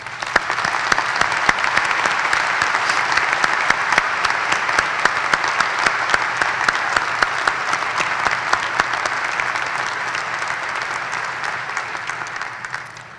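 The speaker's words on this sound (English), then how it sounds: "Please join me in giving Rick and his teaching colleagues a long-deserved round of applause." A commencement audience at St. Bonaventure gives sustained, dense applause from many hands for about thirteen seconds, loud and even before tapering slightly at the end.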